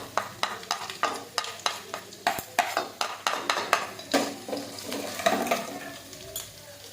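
Cumin and mustard seeds go into hot oil for tempering, crackling and sizzling with a run of sharp pops and a steady hiss, while a spoon clinks against the pan in a rhythmic stir, close and fairly loud.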